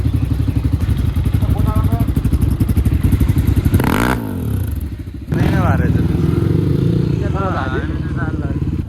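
A motorcycle engine runs loud and close with a rough, pulsing rumble, briefly dropping off midway before picking back up, with voices speaking over it.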